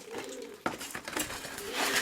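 Pigeons being fed, soft low cooing from several birds close by amid a busy flutter of patter and small clatters, fairly quiet overall with a sharp knock partway through.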